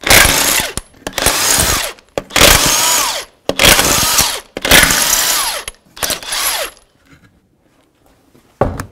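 A power tool, likely an impact wrench, spins off the front wheel lug nuts of a 1984-2001 Jeep Cherokee in about six loud, close bursts separated by short gaps, then falls quiet.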